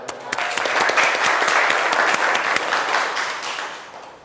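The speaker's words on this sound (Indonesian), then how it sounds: "Oke, tepuk tangan." Applause from a classroom of students, a dense burst of clapping that builds quickly and then tapers off, close and lively, with no talking over it.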